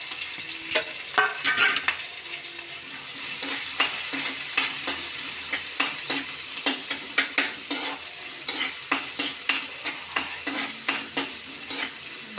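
Finely chopped onion and green chillies sautéing in a pan for a radish bhaji, a close crackling sizzle punctuated by frequent rhythmic spatula scrapes and taps on the pan, fairly loud with no voices.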